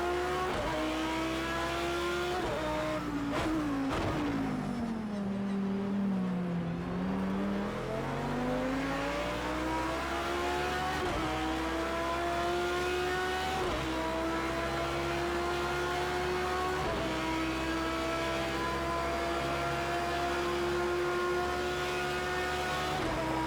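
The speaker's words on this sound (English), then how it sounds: "You really hear the tires just fighting and protestifying enough traction with how hard the car's pushing around through there." Audi R8 LMS race car in Project Cars 2 at Le Mans, its engine loud and steady with rising and falling revs through gear changes, tires squealing as they fight for grip in the corners.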